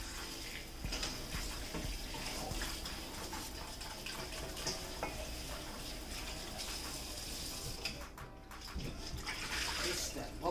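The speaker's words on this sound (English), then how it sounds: "I think I'm gonna rinse it one more time" Tap water runs steadily into a kitchen sink as raw chicken is rinsed while preparing a pot roast, a continuous moderate gush lasting about ten seconds with no clear speech.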